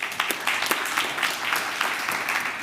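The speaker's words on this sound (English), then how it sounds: "another round of applause for Counter Digital" Audience at a circular-fashion startup pitch demo day applauding, steady clapping from many hands that carries on evenly throughout.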